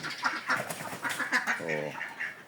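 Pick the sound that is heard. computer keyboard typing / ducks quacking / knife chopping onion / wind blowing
ducks quacking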